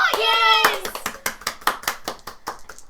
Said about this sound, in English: We're clapping now.